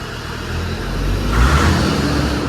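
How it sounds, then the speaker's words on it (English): A car engine idles with a low rumble, then revs up and holds a deeper, louder roar before settling slightly, close by. "They just sound like a powerful engine"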